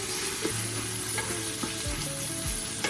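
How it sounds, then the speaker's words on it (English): Fire roasted tomatoes going into a chili pot, with a steady loud sizzle and frying crackle under a few scraping stirs of a spoon against the pot, close up, no talking. "Then we'll add in our fire roasted tomatoes."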